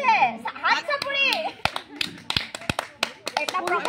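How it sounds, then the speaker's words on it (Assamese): Hands clapping at a home mehndi celebration, a series of sharp claps in an irregular rhythm over lively nearby chatter and children's voices. "এটা প্ৰকাণ্ড হাত চাপৰি"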